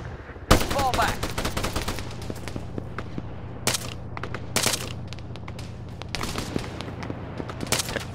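Gunfire in the military shooter game Arma 3: a sharp, loud shot opens a string of rifle and automatic bursts scattered across the clip, some near and some more distant.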